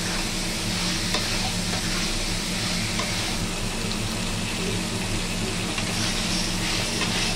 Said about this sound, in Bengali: এবার আলু কাঁঠালের দানা সব মশলা ভালো করে কষিয়ে নেব।